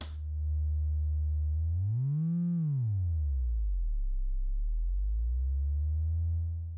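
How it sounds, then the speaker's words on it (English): A clean, steady sine tone from a Behringer 1004 synthesizer oscillator module glides smoothly up in pitch, falls back down and rises again, sustained and alone. "now we start with the normal sine wave."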